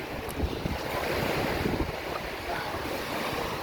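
Surf rolls onto the beach at Sanibel Island, Florida, a continuous loud wash of waves mixed with heavy wind buffeting the microphone during a bicycle ride along the shore.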